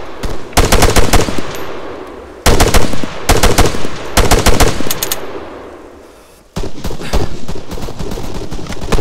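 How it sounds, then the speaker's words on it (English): Machine gun fire from the video game Arma 3 crackles in loud, rapid bursts with short gaps between them, the last stretch a steadier run of shots; no talk over it. "my friends here are shooting at the enemy"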